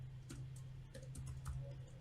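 Quiet keystrokes on a computer keyboard while HTML code is written, a short burst of irregular light clicks and taps over faint room hum, close and soft.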